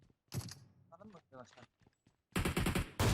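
Gunfire from PUBG Mobile on the Miramar desert map: short bursts of automatic shots crack loud and close near the end, after stretches of talking.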